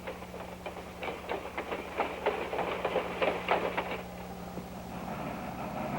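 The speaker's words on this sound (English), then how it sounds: "Rayonier's largest road engine, a 130-ton Sierra type Baldwin Mallet built in 1934" A 130-ton Sierra type Baldwin Mallet steam locomotive built in 1934 hauls log cars loaded with Sitka spruce butt logs, a steady low rumble under a rapid run of clanking, clicking rail and wheel beats at moderate distance.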